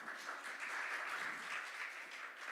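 Steady, dense clapping from a church congregation during a Sunday Easter service fills the hall, continuous and even throughout, with no voices over it.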